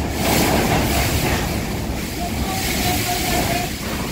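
Strong typhoon winds roar without letup in Daet during a signal number 5 storm, a dense, loud, continuous rush of wind under faint voices.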